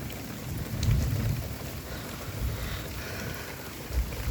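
Thunderstorm at night in a hometown area: steady rain patters on surfaces while deep, rolling thunder rumbles swell twice, near and fairly loud, with no talking.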